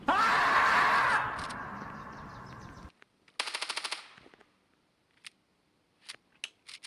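Gunfire in the mobile shooter Standoff 2: a long loud burst fades, then a short rapid volley of shots follows, and a few scattered single clicks and pops close the sequence.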